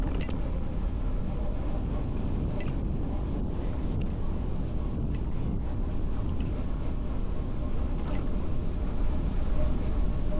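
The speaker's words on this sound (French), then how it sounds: "Là, il y a vraiment pas mal de vent." Strong wind blasting continuously across the microphone while riding a mountain bike fast, a loud, unbroken low rumble with a faint rushing hiss above it.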